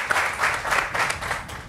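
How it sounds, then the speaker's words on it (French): A studio audience on a French football talk show applauds in brief, lively bursts, close and fairly loud, with no talk over it. "Quand on vous dit bonjour dans la vie, vous applaudissez, vous."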